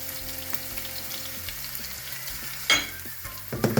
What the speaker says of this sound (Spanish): Vamos a dejarlo cocinar hasta que esté pochadita la cebolla y el puerro.